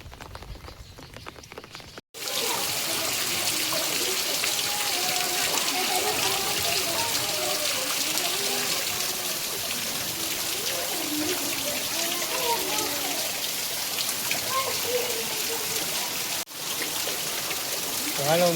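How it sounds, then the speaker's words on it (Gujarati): Steady rain falls over a village, a dense broadband hiss that stays constant at close range with a brief cut near the start. Faint tonal chirps or calls run through it. "અત્યારે અમારા ગામમાં ભાઈ વરસાદ ચાલુ છે"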